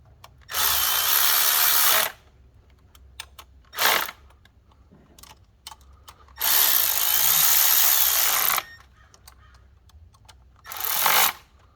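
A power tool runs bolts down on the oil filter housing of a 2014 Jeep Grand Cherokee with the 3.6L V6, in several loud whirring bursts of about one to two seconds each, separated by quiet pauses.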